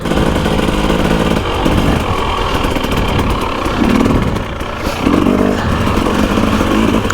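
A Husqvarna two-stroke dirt bike engine runs loud and close, holding a raspy idle before swelling into a couple of brief revs, with no talking over it.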